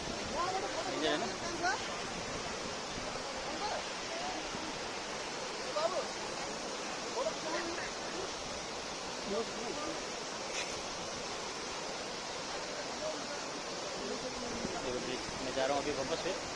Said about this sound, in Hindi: तो वाटरफॉल देख लिया, कैसा दिख रहा है